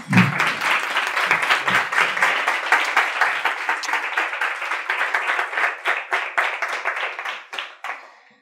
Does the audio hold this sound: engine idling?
no